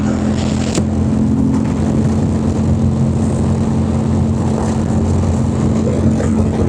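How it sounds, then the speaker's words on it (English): A 2025 Indian Challenger motorcycle runs pinned at full throttle on the governor near 115 mph, a loud steady engine drone mixed with heavy wind rush, without talk. "Got the governor kicking in around 115, so full throttle, pinned, can't go past 115, but plenty of power."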